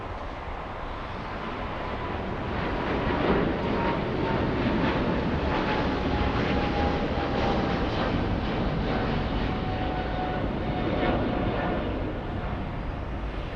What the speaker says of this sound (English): We got the big 777 taken off